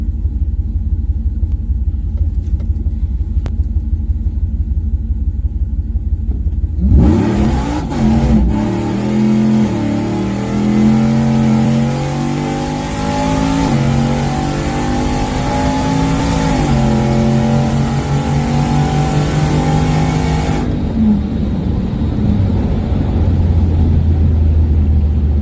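A four-door Ram truck launches down a quarter-mile drag strip, with a loud engine roar rising through the gears for about fourteen seconds and then cutting to a low idle rumble. No speech is heard.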